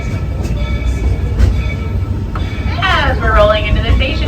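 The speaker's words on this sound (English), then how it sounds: "As we're rolling into the station" The Walt Disney World Railroad train at Magic Kingdom rumbles along at low volume, then brakes squeal with rising high-pitched tones as it slows into Main Street Station, steady background noise throughout.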